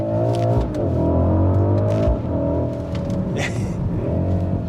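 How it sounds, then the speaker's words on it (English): A 2021 Mercedes-AMG GLE 63 S V8 in race mode revs hard through its exhaust, loud close blips and surging roars with brief dips between, a faint voice briefly underneath. "but it also makes the exhaust a little bit louder, so you can make fun sounds like this"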